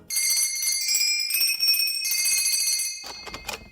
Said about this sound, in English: Rang the bell.